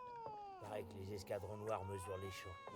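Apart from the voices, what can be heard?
cat meowing in video game The Witcher 3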